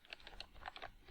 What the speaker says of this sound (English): Hit enter on my keyboard.